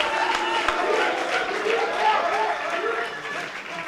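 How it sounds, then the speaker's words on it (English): Crowd at a prison literacy day event claps and murmurs for a contestant, a dense spread of applause mixed with voices and cheering that holds for a few seconds. "A round of applause for Mr. Anglin."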